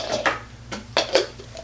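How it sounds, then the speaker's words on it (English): Magic Bullet Express Deluxe blender's smoothie container swapped out on a countertop, giving a few sharp plastic clacks and knocks spaced over a second and a half, close by with no talking. "we need to switch out the smoothie container"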